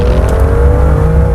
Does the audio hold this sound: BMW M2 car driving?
yes